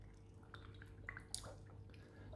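Water empties from a lifted aquarium filter periscope in soft, faint drips and trickles over a low background hum.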